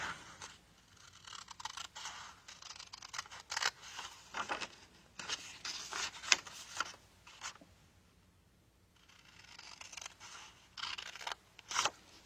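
Scissors cut out card stock for a slider box in bursts of faint, close snips and scraping slices, separated by brief pauses.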